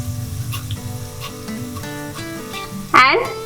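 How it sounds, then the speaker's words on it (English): Mustard seeds hit hot oil already frying nuts and red chilies, giving a steady soft sizzle and faint crackle under a voice, with a sharper hiss flaring up near the end. "now I'll add in my mustard"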